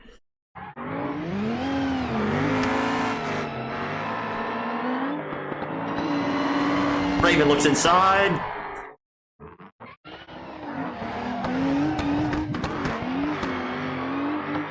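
Race cars battling in a rallycross video game, engines revving hard and rising and falling in pitch with tire squeal and skids, loud and continuous with a short gap, while a commentator talks over the action.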